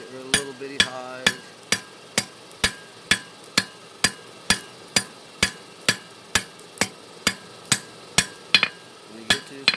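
Light, even blacksmith hammer blows planishing a hand-forged fork on an anvil, about twenty sharp metallic strikes in a steady rhythm, close and clear with ringing overtones and no talk.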